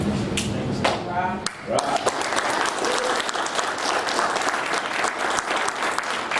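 Applause from an audience at a military promotion ceremony to gunnery sergeant, with dense clapping running steadily throughout and a few brief voices mixed in near the start.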